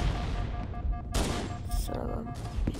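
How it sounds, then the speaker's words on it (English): Short bursts of assault rifle fire from a Halo game, two loud clusters of rapid shots standing out over a steady background hum. "the assault rifle's good enough"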